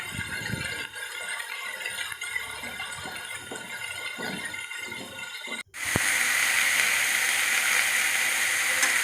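Spicy vermicelli frying with salt and turmeric, a steady sizzling rattle of stirring in the pan that turns into a louder, brighter hiss partway through, with no talk.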